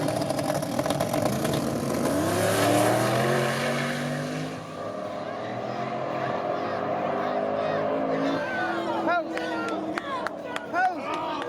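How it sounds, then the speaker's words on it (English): Turbocharged drag racing car engine running an anti-lag two-step system, revving and rumbling loudly with rising pitch, then settling into an idle broken by sharp pops and crackles near the end. "This is an anti-lag system. This is something, especially with drag racing"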